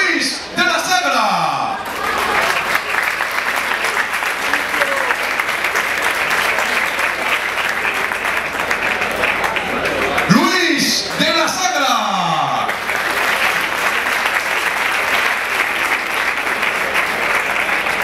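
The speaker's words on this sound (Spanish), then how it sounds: "recibamos con un fuerte aplauso a Luis de la Sagra." A crowd at a boxing federation tribute event applauds loudly and continuously, a dense wash of clapping with a booming Spanish-speaking announcer cutting in twice.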